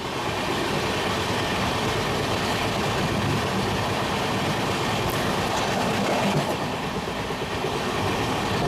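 A train runs at speed past a railway station without stopping, its steady loud rumble and clickety-clack of wheels filling the whole stretch, with no voices.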